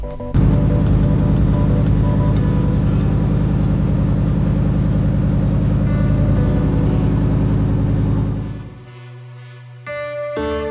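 An S4 car engine fires up abruptly and runs with a loud, steady, deep drone close by for about eight seconds before cutting off, leaving brief faint noises.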